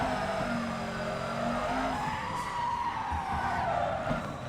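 Tires squeal over engine drone as a car drifts in the racing video game Furidashi Drift Cyber Sport, a steady skid held for several seconds with rising and falling pitch.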